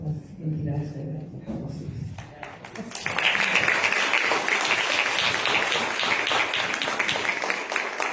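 A forum audience, led by a senator, bursts into applause after a speaker finishes, with a steady, dense wash of clapping that carries on loudly to the end.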